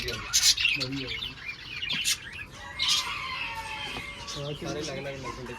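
Budgerigars chirping and tweeting in quick bursts, fairly close, at a farm in Hoshiarpur, while people talk underneath, with an occasional louder squawk.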